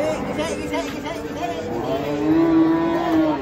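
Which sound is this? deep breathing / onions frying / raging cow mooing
raging cow mooing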